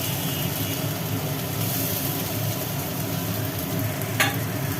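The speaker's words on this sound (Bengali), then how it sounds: "আলুগুলো দিয়ে মশলার সাথে এখন একটু কষানো হবে" Fried potatoes are stirred into a sizzling spice paste in a pan, a steady loud frying hiss with soft scraping underneath, continuous throughout and no talking.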